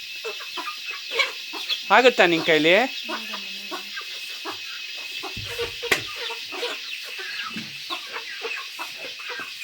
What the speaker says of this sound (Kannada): ಇದೆಲ್ಲ ಪಕ್ಕ ಪ್ಯೂರ್ ನಾಟಿ ಕೋಳಿ ಇವೆಲ್ಲ